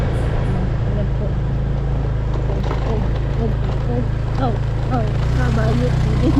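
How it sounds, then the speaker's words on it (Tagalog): Motorcycle climbing a rough uphill road, a steady loud engine drone running throughout with the rider's voice talking over it. "rough road pa siya, kaya kakalimbang ang motor"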